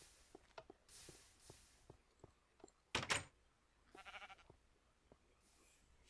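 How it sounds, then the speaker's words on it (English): A sheep bleats in modded Minecraft Skyblock, loud and close, in two short outbursts amid soft clicks and footstep-like taps, with no voices. "Random sheep, that's who's going to greet me."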